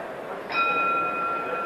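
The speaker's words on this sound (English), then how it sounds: "Bell for round 3." A boxing ring bell rings once to open round three at Colombes Stadium, a clear sustained metallic tone that lingers and fades over steady roaring crowd noise from a packed outdoor stadium of tens of thousands.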